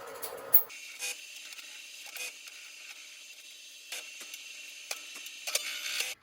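Carbide-tipped tool cutting the end of a wooden spinning top on a lathe, faint scraping and ticking bursts recurring irregularly against a quiet background.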